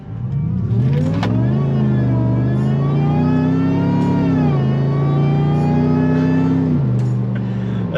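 A supercharged 2005 Ford Explorer with a 32-valve engine swap accelerating at half throttle, a loud close engine note with supercharger whine climbing in pitch through the gears, no talk.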